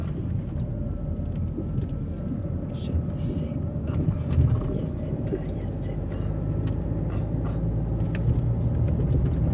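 Busy street traffic with many cars passing, a continuous low rumble of engines that swells gently, heard alongside a person talking nearby.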